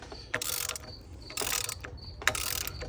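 A ratchet rapidly clicks in three bursts while tightening a Cummins 6.7 rocker assembly on a 2007 Ram to compress Hamilton 103-pound valve springs, close and clear with short pauses between strokes.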